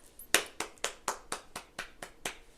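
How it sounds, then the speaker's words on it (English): About nine brisk hand claps in an even rhythm, close and fairly quiet, each a crisp smack with a short decay. "Hold on while I applaud."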